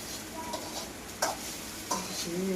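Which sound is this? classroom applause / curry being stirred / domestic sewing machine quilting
curry being stirred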